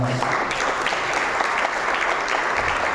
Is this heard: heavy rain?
no